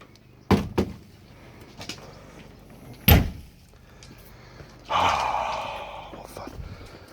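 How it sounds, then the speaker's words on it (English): A door on a 1971 vehicle in a red shed is opened, giving two sharp knocks followed by a louder clunk, then a longer creaking scrape as it swings, close by and without talk. "This door does open."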